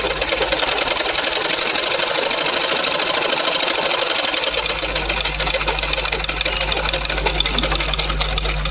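A sewing machine runs steadily as a fabric strip is stitched onto cloth for a tailoring job, a dense continuous whir lasting the whole stretch with a low hum entering midway.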